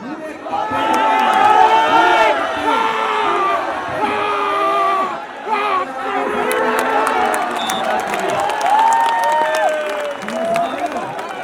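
A crowd at a kabaddi club tournament claps and cheers in a loud, sustained roar, with shouts and whistles rising and falling over continuous applause, and a voice calls out over it.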